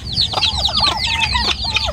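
Heavy pet turkeys in a backyard pen with a rotting bamboo roost, giving a dense, continuous run of overlapping gobbling and clucking calls, close and fairly loud, with no talking.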